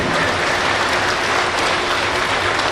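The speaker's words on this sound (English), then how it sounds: "let's give them all a big round of applause" A crowd at a Sinte Gleska University graduation ceremony applauds the graduates, a loud, sustained, dense clapping that holds steady throughout with no talking over it.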